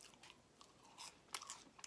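Quiet, close crunching and chewing of extra crunchy French fries during a fried fish meal, a few crisp bites with no talking.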